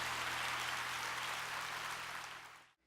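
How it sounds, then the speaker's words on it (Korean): Steady applause from a church congregation, dense and loud for a few seconds before cutting off abruptly. "우리 하나님께 큰 박수 올려 돌리십시오"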